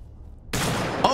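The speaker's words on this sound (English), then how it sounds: "I'm gonna use the shotgun." A shotgun fires in the video game Return to Castle Wolfenstein, a sudden loud blast that breaks a near silence and rings on for a moment, with a brief sharper crack near the end.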